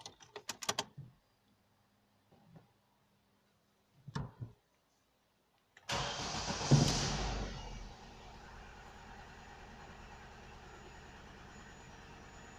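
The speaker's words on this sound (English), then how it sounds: "so now we can start the engine" A few clicks and taps, then an Opel Astra H 1.6 engine cranks with a sharp burst and settles into a steady idle that continues to the end.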